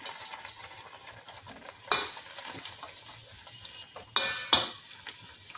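Kimami sewai with chopped dry fruits being stirred in a pan over high heat: soft scraping and sizzling, with two sharp metallic clatters of a spoon against the pan, no talk.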